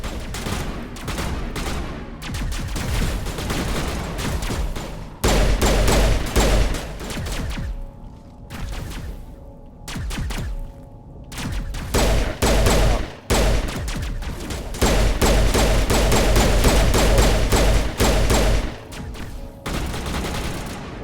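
Loud, sustained gunfire from the video game Mass Effect 1 fills the scene: dense automatic bursts and rapid shots crackle almost continuously, broken by a few short lulls.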